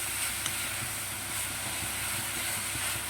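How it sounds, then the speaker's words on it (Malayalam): Breadfruit sautés in hot oil with a steady, hissing sizzle, even and close, and no voices. "ഈ എണ്ണയിലൊന്ന് സോട്ട് ചെയ്തെടുക്കാം."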